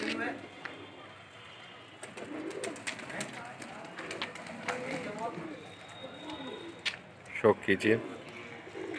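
Pigeons at a keeper's rooftop loft setup, soft cooing and bird calls mixed with rustling, someone talking over them throughout, with a few louder close sounds near the end.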